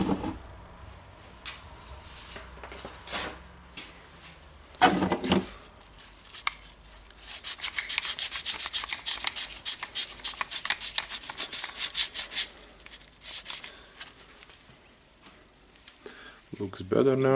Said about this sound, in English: And I will clean the armature with a sanding paper a little bit.